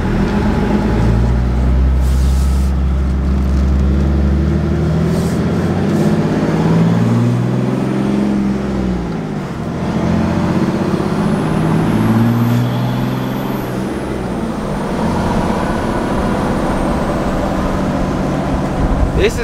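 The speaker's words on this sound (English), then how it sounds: "Let me try and give you guys a little more sound clip of shifting here" A truck rolls downhill as its engine note rises and falls through several gear shifts, loud and close-up in the cab, with steady road rumble underneath.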